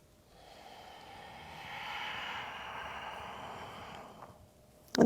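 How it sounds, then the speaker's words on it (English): A long audible exhale during a morning yoga practice, a soft breathy rush that swells and then tapers over a few seconds, quiet and close, ending with a brief sharper breath. "One more time with the sound of your breath."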